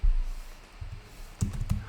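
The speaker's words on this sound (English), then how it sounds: "just start typing here" Typing on a computer keyboard for a Google Sheets spreadsheet, a few soft close clicks at the start and a quick burst of keystrokes near the end, alone without speech.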